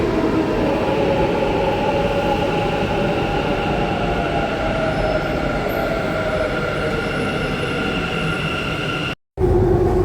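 A metro train at a station rumbles loudly and steadily, with a whining mechanical tone layered over the roar and a brief dropout near the end.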